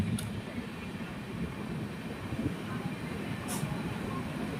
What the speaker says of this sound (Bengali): আমাদের ট্রেন ছুটে চলেছে